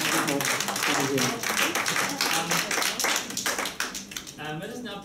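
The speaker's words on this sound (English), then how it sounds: "Let's give him a round of applause." A conference audience at a Javanese Wikipedia talk gives a dense round of applause, with voices speaking over and through the steady clapping.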